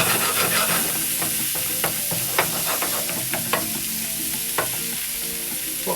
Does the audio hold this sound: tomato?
yes